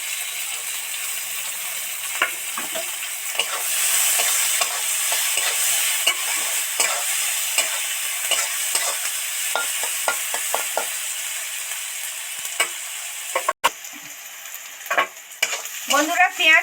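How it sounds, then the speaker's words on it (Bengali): Onions fry in a pan for a mustard hilsa dish, with a steady sizzle under repeated scraping and clinking of a spoon or spatula stirring against the metal, growing busier toward the end. "পেঁয়াজ ডিপ ফ্রাই করে ভাজবো না, পেঁয়াজ এরকম একটু সফট সফট লাগলে তবেই খেতে ভালো লাগে"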